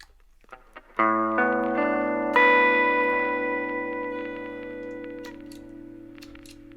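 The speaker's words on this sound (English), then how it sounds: "use it as a lo-fi engine, and this is how that sounds" An electric guitar chord rings out through a gritty, warbling lo-fi effect, a second chord layered on top, sustaining and slowly fading.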